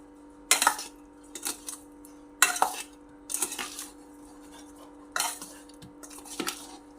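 Spoon or spatula scraping and clinking in a metal pan as peeled potatoes are mixed into a spicy masala, several short bursts of stirring separated by quiet pauses over a faint steady hum.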